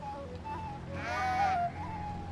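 A single sheep bleat from the video game Mortal Shell 2, a short wavering cry rising over quiet ambient game sound, with no voices.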